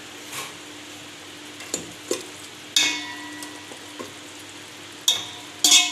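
Mutton pieces frying in a pot on a gas flame for biryani, stirred with a spoon: soft steady sizzle under several sharp scrapes and clinks against the metal pot, close by.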